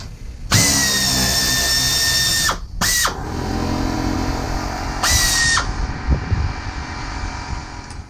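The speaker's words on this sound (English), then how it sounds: "take the screws out over here on the side, these bolts out that are holding up the underbelly" Power drill driving screws and bolts out of an RV underbelly beneath an Evergreen Bayhill 340RK fresh water tank, several loud close bursts of whining motor with short pauses between them.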